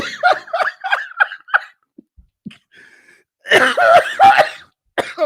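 A man coughs in a string of short, hoarse bursts, pauses with faint throat sounds, then breaks into a louder run of coughs mixed with laughter, close and dry.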